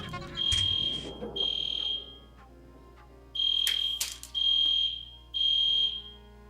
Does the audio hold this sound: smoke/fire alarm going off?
yes